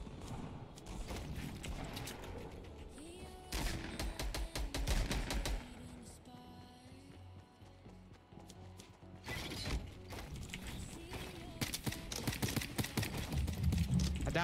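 Quiet Fortnite gunfire snaps in quick clusters of sharp shots, two main bursts separated by a calmer stretch with mechanical game sounds underneath.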